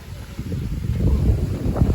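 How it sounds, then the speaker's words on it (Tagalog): Strong typhoon gusts buffet the microphone while trekking on Mt. Pinatubo, a loud, rumbling low roar that swells and surges for a couple of seconds. "Ang lakas ng hangin."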